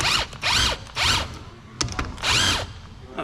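An impact gun tightens a top mount nut on a Vauxhall Corsa, firing in four short, loud rattling bursts with brief gaps and a small click between them.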